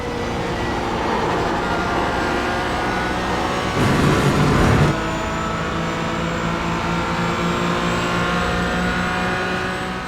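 Porsche GT4 race car engine in the iRacing simulator at Lime Rock, a steady sustained drone with harmonic whine throughout, a brief louder burst of broadband noise midway, then settling back to an even hum.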